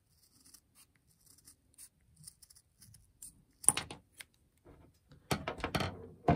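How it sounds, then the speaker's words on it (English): A NATO watch strap is cut, heard as faint scattered ticks and scrapes at first, then a few sharp close snips and a denser burst of crisp cutting sounds toward the end. "cutting off a good part of this strap"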